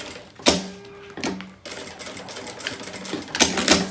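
Bursts of a sewing machine stitching fabric for a handmade bag, short rapid runs separated by pauses, close and fairly quiet.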